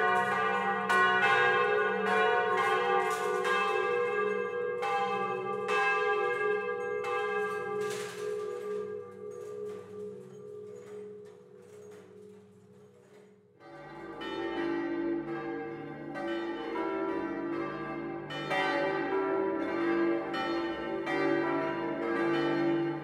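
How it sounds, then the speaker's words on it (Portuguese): Church bells ringing at length, several bronze bells striking in overlapping, irregular peals with long ringing tones, shifting to a deeper, fuller set of strokes midway; clear and moderately distant with no voices. "Os sinos sempre marcaram época, fatos e sempre traduziram a religiosidade do povo."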